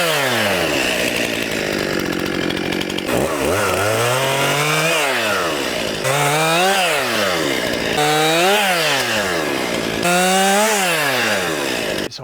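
A chainsaw cuts a trail through branches and logs, running loud and close the whole time as the engine pitch repeatedly rises and falls while the blade bites in and eases off.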